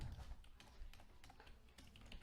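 Typing on a computer keyboard while writing Minecraft mod code, a run of quick, uneven key clicks and taps at close range with no talk over it.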